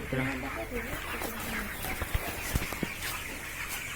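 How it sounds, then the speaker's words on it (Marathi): English-breed chickens cluck nearby in short bursts, with scattered knocks and faint background noise. "कसल्या मित्रांनो कोंबड्याचं बघा भारी"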